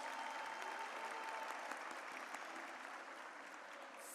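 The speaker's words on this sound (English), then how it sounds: "Please give him a round of applause." Audience at the Frederick Douglass High School 2022 graduation ceremony applauding, a sustained wash of clapping that holds steady and eases slightly toward the end, heard from a distance in a large hall.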